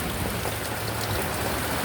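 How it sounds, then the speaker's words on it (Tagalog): Steady, dense rain hisses continuously on surfaces nearby, an even wash of sound with no pauses. "Inabutan na ng ulan"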